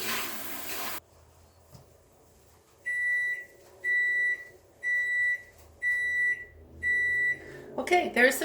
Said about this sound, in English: there's the timer for the roofing biscuits